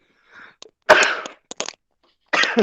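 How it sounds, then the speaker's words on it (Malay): A teacher sneezes loudly and close into a microphone during an online maths lesson, one sharp burst followed by a few short breathy sounds. "Cikgu terbersin."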